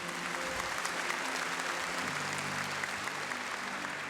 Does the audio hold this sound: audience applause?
yes